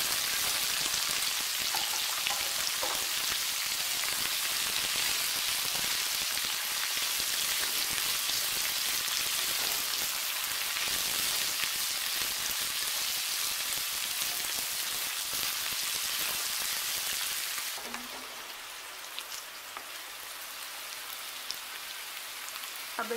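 Cauliflower and carrot fry in a pan with a loud, steady sizzle that fills most of the clip, then quiets and thins out near the end.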